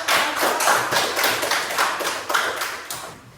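Classroom students applauding for group A, a lively burst of many hands clapping close by, fairly loud and uneven, tapering slightly toward the end.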